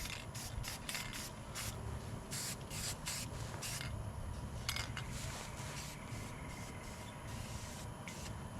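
A can of spray paint hisses onto a custom front bumper for a shop truck, with repeated short bursts and a few longer sprays, steady and moderately close, with no talking.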